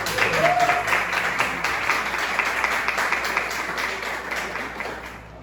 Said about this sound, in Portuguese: Então vamos receber ele com alegria e com palmas.